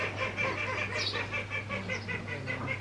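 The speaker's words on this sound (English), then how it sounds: "There's a duck here." Waterfowl honk and quack repeatedly in a steady, rapid pattern, moderately near and fairly faint over a low constant hum, outdoors in a village setting.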